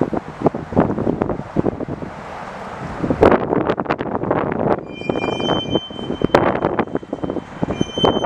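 Union Pacific local freight cars being kicked loose by a revving locomotive, with dense clanking, rumbling wheels and metallic squeals rolling past nearby amid strong wind noise.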